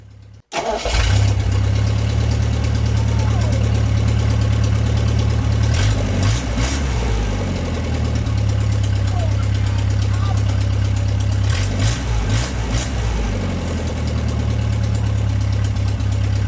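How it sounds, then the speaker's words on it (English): An old MG car engine starting for the first time in 22 years without a choke, a sudden catch and then a loud, steady idle close by, with a few blips of revving partway through. "It starts without a choke."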